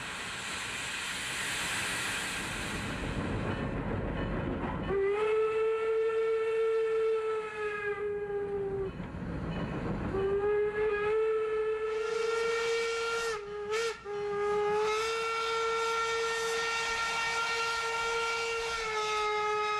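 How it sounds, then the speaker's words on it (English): The whistle of steam locomotive 475 on the Strasburg line blows long, sustained blasts over a hissing, rumbling rolling passenger train, pausing briefly between toots. "the train rolls along at a gentle pace through the peaceful countryside"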